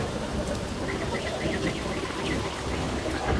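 Rain beginning to fall outdoors, a dense steady hiss of drops with a low rumbling undertone, close and continuous throughout.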